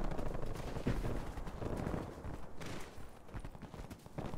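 Gunfire in the shooter game Call of Duty: Cold War during a Hardpoint match, rapid automatic bursts with a distinct sharper shot early on, fairly quiet and continuous under the game mix.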